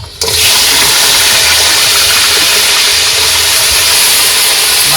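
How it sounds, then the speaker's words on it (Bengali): Crab frying in a pan aboard a small boat in the Sundarbans, a loud, dense, continuous hiss of hot oil that bursts in suddenly and holds steady at close range. "এবার কাঁকড়াটা হালকা করে ভেজে নেবো"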